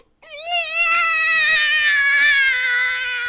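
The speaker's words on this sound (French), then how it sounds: "Et le cri strident des bébés des autres." A baby cries shrilly in one sustained, high, wavering wail that carries on for several seconds, loud and alone.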